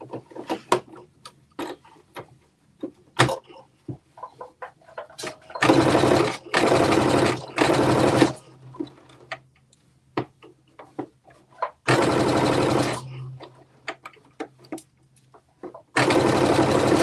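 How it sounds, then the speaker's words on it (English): A sewing machine edge stitches a seam down across a garment shoulder in several loud, close bursts of rapid whirring, separated by pauses filled with small clicks and handling taps. "press your foot up and pivot across the shoulder and edge stitch that down"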